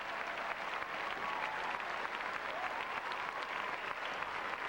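A tennis crowd at a 1990 Sydney semi-final between Edberg and Lendl applauds steadily, a dense, even wash of clapping from a large audience that holds at a constant level throughout.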